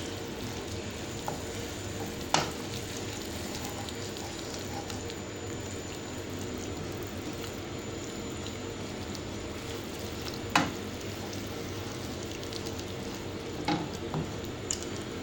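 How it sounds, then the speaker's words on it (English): Spinach and Parmesan cheese are mixed together in a pan over a soft, steady low sizzle, with a few sharp scrapes or taps of the spoon spaced out, close and fairly quiet. "I'm gonna mix it together"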